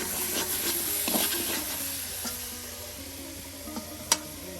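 Chicken meat frying in a pan for a village-style curry with ground spices, a soft steady sizzle with scattered ticks and scraping stir sounds, no talking.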